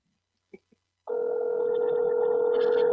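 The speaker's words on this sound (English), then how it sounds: "I wonder how long I can let Jeffrey ring" A telephone line on a radio call-in show gives two faint clicks and then a steady, continuous tone that holds loud and unbroken to the end, with no talk.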